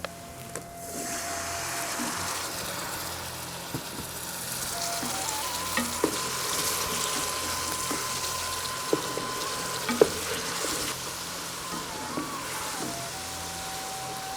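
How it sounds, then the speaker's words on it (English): Boiled potatoes and cauliflower fry in a pan for aloo gobi, giving a steady, close sizzle throughout with occasional stirring clicks and scrapes, and no talk. "I'm going to add some boiled potatoes and cauliflower now"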